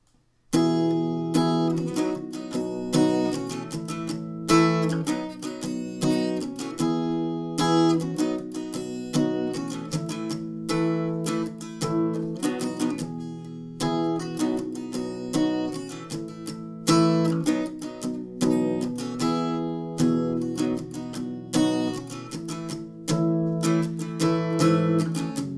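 A chorus played on acoustic guitar, the chords strummed steadily and evenly with a light, palm-muted feel, close and alone with no voices for about 25 seconds.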